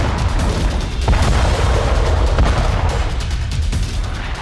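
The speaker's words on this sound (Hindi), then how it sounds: "टैंक और तोप बारूद उगल रहे।" Tank and artillery fire in war footage from the Russia–Ukraine war: a dense, continuous roar of loud booms and sharp bursts overlapping without pause, heavy and close, with no talking.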